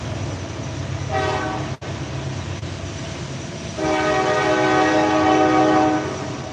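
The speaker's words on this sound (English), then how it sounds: "I'm sorry about the train noise." A train rumbles past nearby, its horn sounding twice, a short blast and then a longer sustained one, over the steady roll of the cars.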